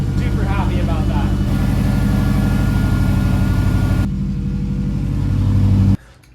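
A 2003 bugeye Subaru WRX idles and revs loudly with only the downpipe fitted and the rest of the exhaust missing, a steady close, raw engine drone before cutting off abruptly.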